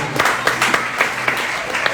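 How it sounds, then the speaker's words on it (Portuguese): A church congregation at an evening Portuguese-language worship service claps, a fairly close, loose patter of hands with a few louder, regularly spaced beats standing out. "Você que pode, aplauda o Senhor nessa noite."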